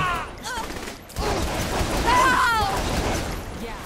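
Sustained gunfire in Saints Row: The Third, loud rapid shots filling the scene with a brief lull near the one-second mark, mixed with whizzing effects and game noise.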